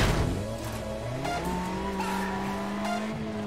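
A white sports car in Need for Speed Most Wanted, its engine droning steadily with rising and shifting pitch and tires squealing, loud and close with no talking.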